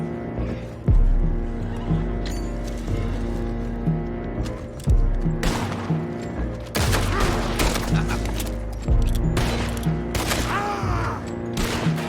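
Horses whinny and snort amid bursts of gunfire and booms during a shootout in the video game Red Dead Redemption 2, the neighs rising over loud, chaotic battle noise.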